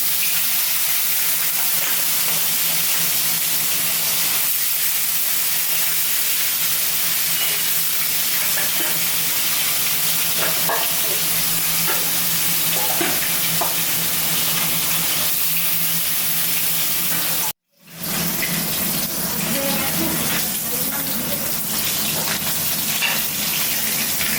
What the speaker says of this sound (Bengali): তেলটা গরম হয়ে গেছে, এবার মাছগুলো দিয়ে দেবো